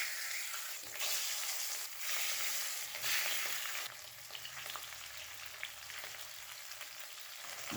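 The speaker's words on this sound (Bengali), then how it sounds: "গ্যাসটাকে হাই ফ্লেমে রেখেই 4 থেকে 5 মিনিট মাছগুলো লাল লাল করে ভেজে নেব।" Rohu fish frying in mustard oil in a wok over a high gas flame, a steady loud sizzle and hiss that continues throughout, with faint stirring or utensil clinks near the end.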